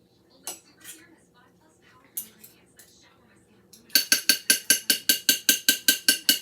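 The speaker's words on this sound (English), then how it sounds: "Now, I'll grease my pan." A metal baking pan, a little smaller than 9 by 13, being greased for brownies gives a quick run of evenly spaced, bright clinks and scrapes, preceded by a few scattered soft knocks and faint kitchen handling.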